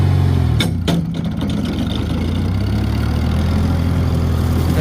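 A mower engine runs steadily at a low rumbling idle while mowing near a creek on a steep slope, loud and close, with a few brief knocks early on.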